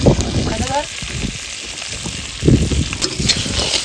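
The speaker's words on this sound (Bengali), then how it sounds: "আর এখানে কাঁকড়া ভাজা হচ্ছে।" Crabs fry in hot oil in a pan, giving a loud continuous sizzle and crackle with brief stirring bursts, heard up close.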